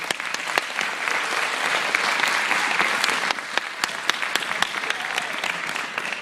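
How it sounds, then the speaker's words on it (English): A school audience at a third grade family gathering gives a dense, steady round of applause for the students, loud and sustained for the whole stretch, with sharp individual claps standing out. "let's give them one more round of applause."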